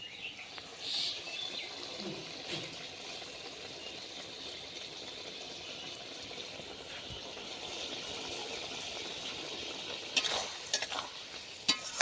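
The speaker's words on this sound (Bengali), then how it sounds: "এবার যে সসটা মিশিয়ে রেখেছি আমি, সেটা এবার আমি ঢেলে দেবো এখানটায়" Sauce poured into a hot pan for chili cauliflower, giving a soft, steady sizzle with faint stirring and a few clinks near the end, fairly quiet and without talk.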